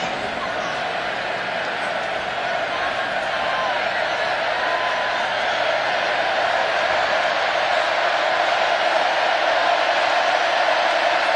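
A large football stadium crowd at Kyle Field roars continuously in a dense, loud wash of cheering that swells slightly over time, with no distinct voices standing out.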